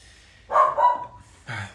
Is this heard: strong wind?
no